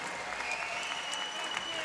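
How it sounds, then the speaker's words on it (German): Steady applause from the crowd at a professional IBF Intercontinental title boxing fight fills the venue, a dense sustained clapping heard at a moderate distance. "Nochmal einen riesen Applaus für beide Fighter"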